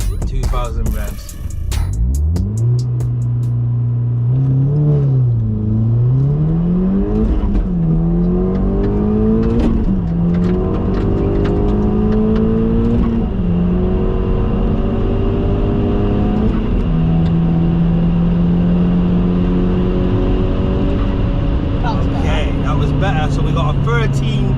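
A stage 2 Audi S3 8P making about 340 bhp launches on a quarter-mile run, its engine note climbing hard through each gear, dipping briefly at every shift before rising again, loud from inside the cabin as voices talk over it.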